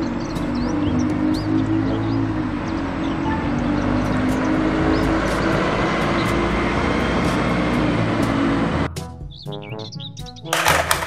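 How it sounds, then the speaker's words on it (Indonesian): A city bus engine rumbles steadily and fairly loudly for several seconds, with light bird chirps above it. The drone then cuts out and gives way to sparser, choppier sounds. "Mobil bus kota."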